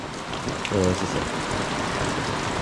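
Rain falls on an umbrella as a steady, close patter that fills the whole stretch, with a brief voice-like sound partway through.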